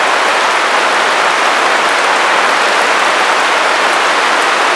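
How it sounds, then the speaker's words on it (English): Steady, loud rain pouring down, a dense hiss of drops hitting a surface without pause. "I got told the rain was coming"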